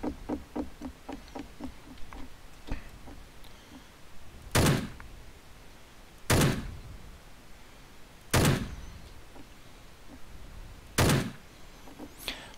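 Revolver shots fired at a window in Rust, four loud, widely spaced single bangs, preceded by a quicker series of fainter ticking taps.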